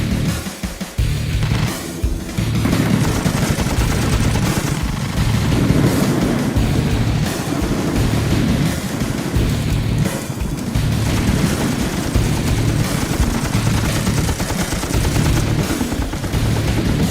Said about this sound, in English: Bravo, friendly fire, taking friendly fire.